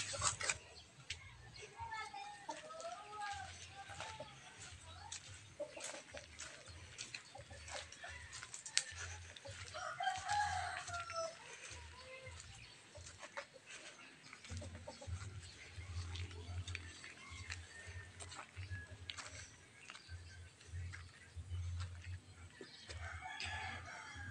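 Roosters crow and chickens cluck around a backyard where fowl are tethered, the calls fairly distant and intermittent over steady outdoor background noise, with people talking nearby.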